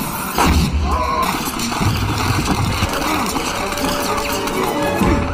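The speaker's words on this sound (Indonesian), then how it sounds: "Saat itulah muncul tembakan yang berasal dari kolong kursi" Toy army gunfire in a film scene, fired from under a chair: a dense, loud barrage of bursting pops and booms runs continuously throughout, layered with clattering impacts and background score.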